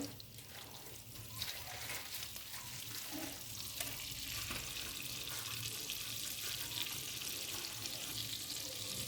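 Butter melting with oil in a pan, giving a steady, soft sizzle and crackle that runs close and continuous throughout, with faint kitchen clatter in places and no talk.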